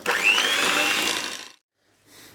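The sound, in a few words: whisking liquid cream for strawberry yogurt cheesecake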